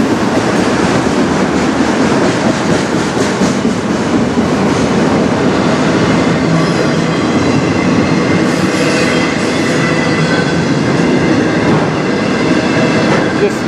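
A CN freight train rolls past close by on the Strathroy Subdivision at dusk, a loud continuous rumble of wheels and cars with faint clicking and squeal throughout.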